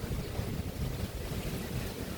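Steady blustery wind buffets the microphone over the continuous wash of rough surf breaking nearby on a Boracay beach, with no voices.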